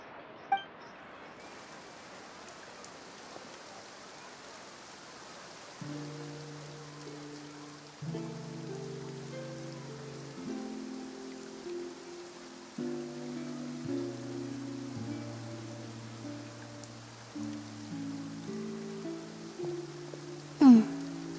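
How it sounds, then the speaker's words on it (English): Rain falls in Fontaine in the video game Genshin Impact, a soft steady hiss of raindrops running under gentle melodic game music that enters partway through. "Looks like rain."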